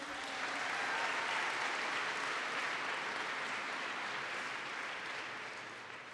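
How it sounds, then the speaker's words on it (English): A large Albany audience gives a big round of applause for the Chancellor, a dense, continuous wash of clapping that holds strong before gradually thinning toward the end. "Let's have a big round of applause for our Chancellor"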